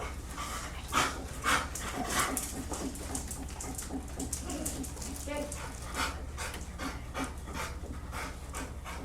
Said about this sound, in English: very slight decrease in his panting